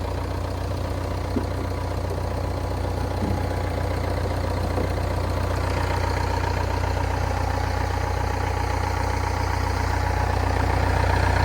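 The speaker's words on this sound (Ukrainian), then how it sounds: "Двигун працює одним словом ідеально тихенько, рівно тримає обороти." The 2.5 dCi diesel engine of a 2005 Renault Trafic van idles steadily and close by, a low continuous rumble with a faint rhythmic knock and no voices over it.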